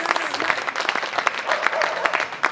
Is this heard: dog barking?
no